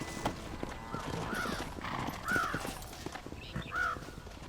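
Hooves clip-clop at a walking pace in the Western video game Red Dead Redemption, fairly quiet and steady, with faint short cries rising over the muffled ambience.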